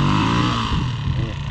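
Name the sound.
motorcycle engine revving with more throttle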